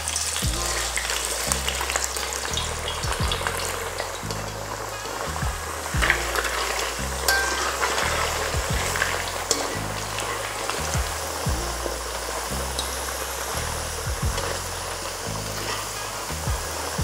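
Potatoes and carrots frying in a pan, an even hissing sizzle with light crackles, close and continuous over a low rhythmic background hum, with no talk.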